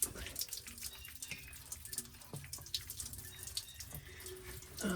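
Water pours from a lodge's water system onto the floor and runs out the drain, a steady faint splashing stream with scattered drips and trickles throughout.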